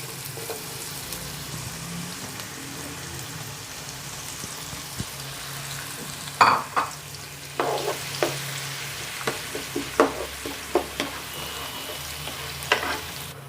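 Finely chopped onions fry in hot oil for an egg karahi, a steady close sizzle punctuated by a run of sharp crackles and spatters through the second half, with no talking.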